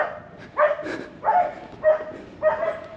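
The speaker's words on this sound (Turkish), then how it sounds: "Lan burada da köpeği bulduk." A dog barks outdoors near a house in Jamaica, four or five short, evenly spaced yelps at moderate distance with no speech over them.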